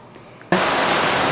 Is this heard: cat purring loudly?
no